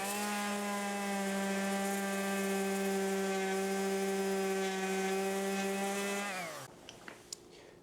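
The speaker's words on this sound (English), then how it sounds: "So I'm going to sand it" Power sander droning steadily on a 3D-printed PLA mold for an arcade cabinet repair, a loud even whine with strong harmonics that slows and winds down near the end, followed by a few small clicks.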